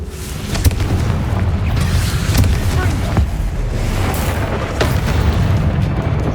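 Confringo blast spells exploding during combat in the Hogwarts Legacy game, a series of heavy booms and bursts over a dense low rumble, with a voice speaking in between.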